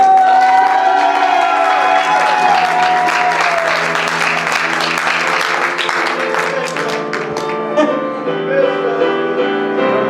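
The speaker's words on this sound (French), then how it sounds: "Applaudissez chaleureusement Olivier Santerre." Audience at a high school graduation gown and yearbook ceremony applauding warmly with scattered cheers and whoops, loud and sustained throughout, over a background music track.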